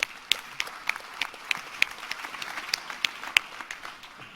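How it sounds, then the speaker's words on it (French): Audience applause for a guest arriving at a round-table session of a Bordeaux event; a fairly sparse room of clappers with distinct individual claps standing out over a soft, continuous patter. "on peut l'applaudir."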